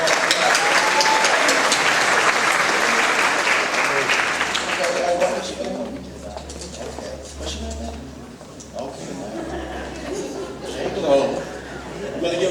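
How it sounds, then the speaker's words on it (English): A hall full of clapping at the COLSAC Awards 2005 ceremony, loud and dense for several seconds before fading, after which a presenter talks over the room's murmur. "Let's do a round of applause for all the youth that are on the"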